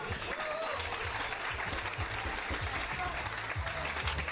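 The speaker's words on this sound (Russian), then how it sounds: "Ваши аплодисменты." Arena crowd at a mixed martial arts tournament in Shali, Chechnya, claps in a broad, even wash of applause, with a voice talking over it throughout.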